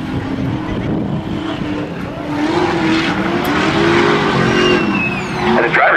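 Engines at a 2015 drift competition roar as cars launch off the line onto a slick course, a loud, sustained, rising engine wail with tire noise, steady and close throughout.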